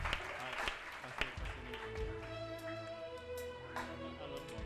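A congregation at a Haitian church deliverance service in Gonaïves claps in loud, uneven bursts while voices call out over the rhythmic hand claps.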